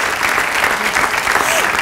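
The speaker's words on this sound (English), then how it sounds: "And it gets an applause." Studio audience at a talk show applauding, a dense, loud burst of clapping with crowd noise mixed in and a voice briefly audible underneath.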